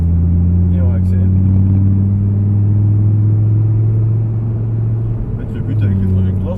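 Audi R8 accelerating on a race circuit, a loud, steady deep engine drone holding throughout with only slight shifts in pitch, heard close from inside the car.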